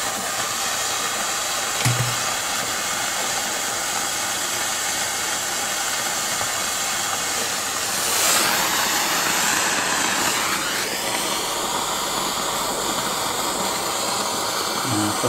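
Heat gun heating plastic tubing being slid onto a 23 cm band vertical antenna, a loud steady blowing roar with hiss, swelling briefly midway as the gun is moved, plus a faint knock near the start.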